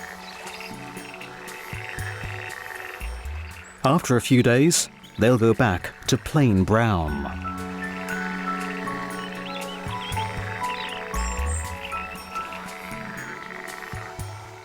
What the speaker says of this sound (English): In spring, moor frogs come here to mate.